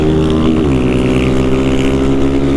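Honda 160 motorcycle engine held at a steady loud rev close by, with a brief pitch dip and recovery as the clutch is worked, then a constant drone.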